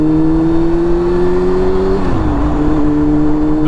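A motorcycle engine accelerates steadily through the gears, its pitch rising, dropping at a shift, then climbing again, loud and close with constant wind noise.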